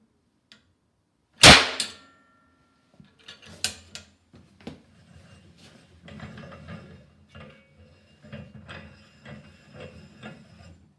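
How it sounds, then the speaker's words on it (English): A 40mm Puckle Gun revolver cannon on a low-pressure system fires one sharp, loud report, followed by scattered mechanical clicks and ratcheting as the cylinder works. "amazing Puckle Gun, firing low-pressure system"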